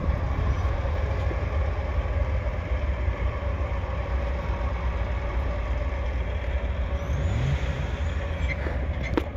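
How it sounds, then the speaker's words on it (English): An empty CSX coal freight train rumbles past close by, a heavy continuous roar with wheel and rail clatter and a faint squeal near the end. "So we had a friendly CSX coal train and a CSX light powered engine."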